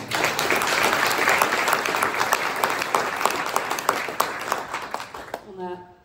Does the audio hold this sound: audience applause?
yes